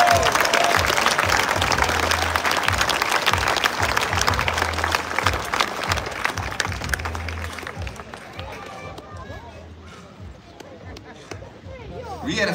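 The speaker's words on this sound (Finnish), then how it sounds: "Raikuvat aplodit, Lassi Tuomi!" Big outdoor crowd in Tampere city centre applauding at a EuroBasket 2025 celebration for the Finnish national team, a loud dense wash of clapping that slowly thins and fades, with a low rhythmic beat and voices underneath.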